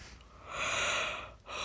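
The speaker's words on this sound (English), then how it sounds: "I'm sorry for always yawning." A person yawning, a drawn-out breathy exhale that swells and fades, followed by a short intake of breath, close and quiet.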